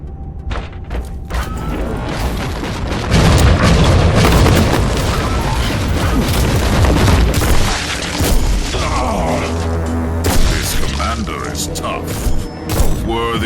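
Grenade blast in the video game Inquisitor Martyr, a deep boom amid dense, loud battle noise with game voices speaking over it.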